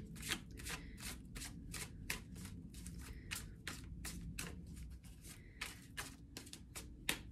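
Tarot cards being shuffled by hand, a quiet run of rapid, papery riffles and slaps repeating in quick bursts, close and soft with no talking.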